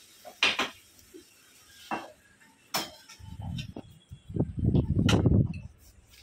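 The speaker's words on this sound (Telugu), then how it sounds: "మనం స్టవ్ అయితే కట్టేసుకొని మన బౌల్లోకి తీసుకుందాం" A spoon clinks and scrapes against a pan a few times, then broccoli salad slides and rustles into a bowl in a louder, dense scraping burst, close by, with the stove switched off.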